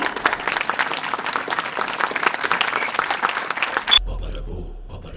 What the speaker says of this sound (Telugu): గట్టిగా చప్పట్లతో ఆహ్వానించండి